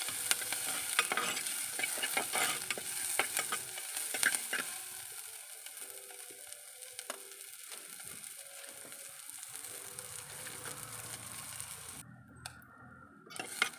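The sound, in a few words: onions sautéing in a pan for vegetable kurma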